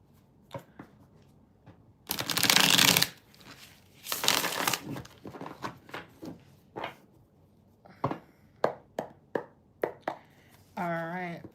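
Tarot cards being shuffled in bursts of riffling and rustling, followed by a series of sharp taps and flicks as the deck is handled and cut, close up.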